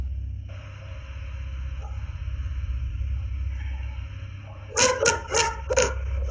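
A dog barking at a door, caught on a Ring doorbell camera, a cluster of four quick sharp barks near the end over a steady low outdoor rumble.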